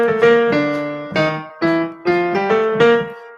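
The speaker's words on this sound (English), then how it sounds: "There's a stock ending that jazz musicians call the Duke Ellington ending, or just the Ellington ending" A short Duke Ellington-style jazz ending phrase on piano, a series of struck chords with a sustained high note and a descending bass line, close and clear.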